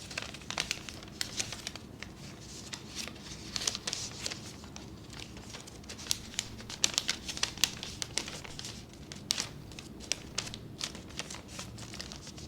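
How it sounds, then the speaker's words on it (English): Origami paper folded and creased by hand at a library craft session: soft, quiet crinkles and rustles with scattered small ticks and taps, close to the microphone and without any talk. "Now you fold this top bit down, form a nice crease, and then you're going to fold it inside."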